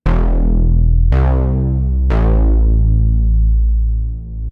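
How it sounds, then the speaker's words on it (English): A thick, detuned Reese bass drone made in the Serum synth throbs and wobbles, restruck three times in a row, loud and alone with no voices. "now that's actually our second Reese bass sound"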